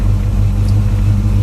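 Road traffic rumbling past a parked 1955 Chevrolet Bel Air hardtop, a close, loud, steady low drone of a car going by with no voices.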